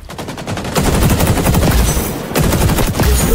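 L86 light machine gun in XDefiant fires in long sustained bursts, a loud, dense rattle of rapid shots with a brief pause partway through before firing resumes.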